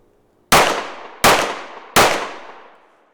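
Three sharp pistol shots ring out on a steel target, each loud report followed by a bright metallic clang that decays, spaced roughly three-quarters of a second apart.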